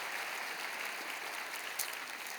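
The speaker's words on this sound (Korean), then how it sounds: "큰 박수로 내려가시죠." A church congregation at Kwanglim Church applauds after a children's baptism service, a steady, dense wash of clapping that holds evenly for the whole stretch.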